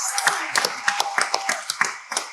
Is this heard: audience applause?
yes